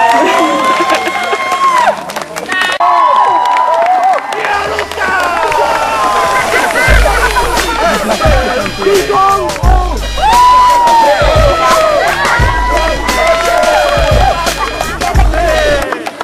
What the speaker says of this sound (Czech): Zatleskejte Dominikovi!